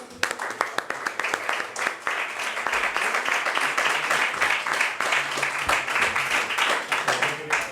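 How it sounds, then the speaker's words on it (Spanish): Steady, dense applause from a conference audience fills several seconds with fairly even clapping at moderate volume. "Un aplauso."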